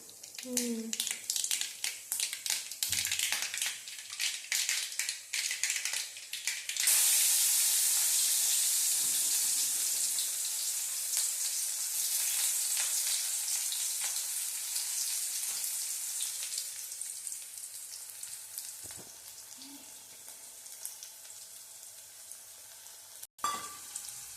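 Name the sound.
mustard seeds, onion and garlic frying in oil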